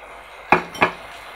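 A spoon scrapes and knocks twice against a pan while stirring risotto rice just after hot stock is added, two short, close clinks about a quarter second apart, with no talking.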